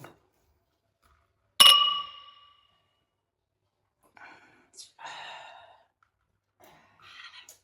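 Glasses clink once in a toast, a single bright ringing chime that decays quickly, followed by quiet pauses and soft voices.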